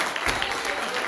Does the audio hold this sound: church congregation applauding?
yes